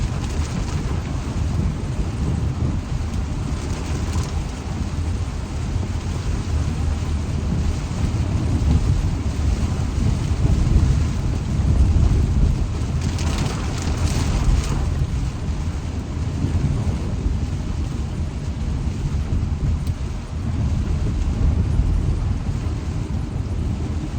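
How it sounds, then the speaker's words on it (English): Heavy rain pours steadily with a deep, rumbling low roar like distant thunder rolling underneath, continuous and fairly loud. "This rain is fun."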